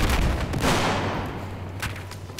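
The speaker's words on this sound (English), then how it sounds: "Oh, that was a flashbang." A flashbang grenade detonates in a first-person shooter game with a loud, booming blast followed by a decaying rumble and scattered gunfire-like cracks, close and forceful.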